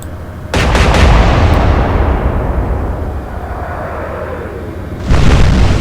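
Big naval guns in the Atlantic Fleet game fire a salvo of several booming shots that merge into a sustained low roar, fading slowly before another loud burst hits near the end.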